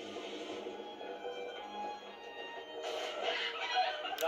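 Chickens in Minecraft: Story Mode cluck and murmur softly at a distance, growing busier and louder toward the end.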